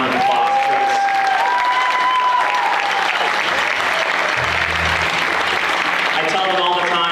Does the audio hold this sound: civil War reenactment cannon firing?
no